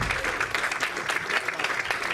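An audience claps steadily and loudly at a conference talk event, a dense, continuous patter of many hands with no voices on top.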